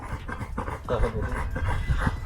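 A big, heavily muscled dog pants close by in quick, steady breaths, with a little background noise.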